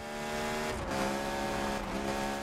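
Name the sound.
car engine revving at 10,000 RPM redline, Need For Speed video game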